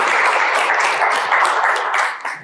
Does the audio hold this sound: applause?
yes